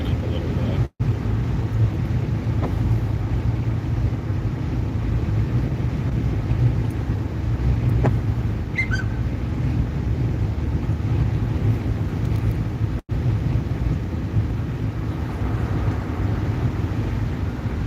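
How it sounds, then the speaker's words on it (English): Steady wind roars around a vehicle outdoors during a snowstorm chase, a continuous low rumble with microphone buffeting that holds throughout, with no one speaking. "The wind's definitely picking up a little bit."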